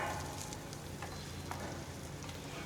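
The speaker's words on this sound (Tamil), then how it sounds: "அடுத்து பச்சை மிளகாய், தேங்காய் போட்டு எல்லாத்தையும் நல்லா வதக்கி விட்டுருங்க." Shallots, tamarind, green chili and grated coconut sautéing in a pan for coriander chutney, giving a steady, close sizzle and crackle of frying with faint stirring scrapes throughout, no voices.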